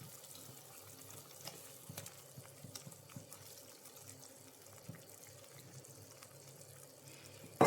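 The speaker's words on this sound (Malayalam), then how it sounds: "ഇപ്പോൾ വെള്ളം നന്നായി തിളച്ചിട്ടുണ്ട്" Water in a cooking pot at a steady rolling boil, with pieces of kara fish dropped in for a simple home-style fish curry; a continuous bubbling hiss with small pops and clinks, close and alone.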